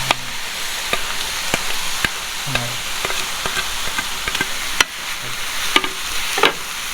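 A spoon stirs fried vermicelli with coconut and sugar in a pan, scraping and clicking sharply at irregular intervals over a soft, steady sizzle.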